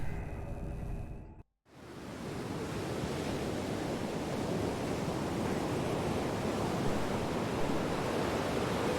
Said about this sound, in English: It's windy here.